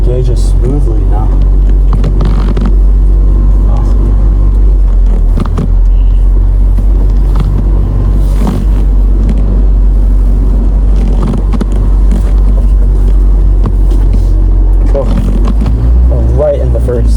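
A mini truck drives after a clutch repair, its engine rumbling loudly and continuously close to the cab with shifting road noise, while a person talks over it.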